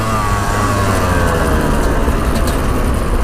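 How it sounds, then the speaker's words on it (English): Yamaha YZ125 two-stroke dirt bike engine rolled on from low revs, a loud, steady raspy drone with rising harmonic whine held throughout, close to the microphone. "Just a little test to see how it handles being rolled on from low RPMs"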